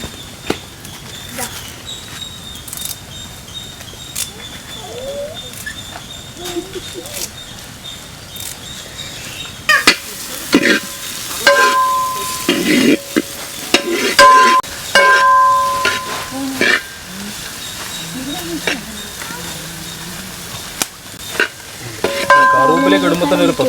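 Curry leaves sizzle and crackle in a frying pan while a spoon scrapes and stirs them, for a village-style chicken varattiyathu. The sizzle starts softly and grows louder and busier with sharp spattering pops after about ten seconds.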